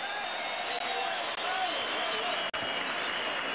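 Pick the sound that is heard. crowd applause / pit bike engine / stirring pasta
crowd applause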